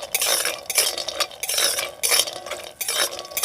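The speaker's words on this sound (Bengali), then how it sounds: "এখন এই ঘিয়ের মধ্যে দিয়ে দেবো কয়েকটা কাজু বাদাম কয়েকটা আলমন্ড বাদাম আর অল্প একটু বাদাম দিয়ে হালকা করে একটু ভেজে নেবো" Cashews and almonds frying lightly in ghee, stirred in a pan with repeated scraping and bursts of sizzle at a steady rhythm, close and fairly loud, with no talking.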